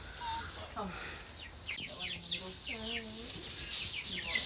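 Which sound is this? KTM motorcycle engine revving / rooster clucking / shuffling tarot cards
rooster clucking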